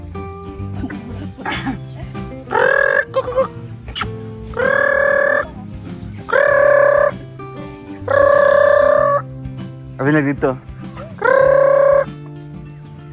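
A white mother hen clucks in a Filipino backyard, giving several loud, drawn-out calls in a row, each separated by short gaps, while people talk nearby.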